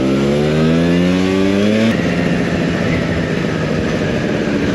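A Vespa PX125 two-stroke scooter engine revs up loud and close during a ride, its pitch climbing steadily before dropping into a rough, buzzing drone with strong wind rush.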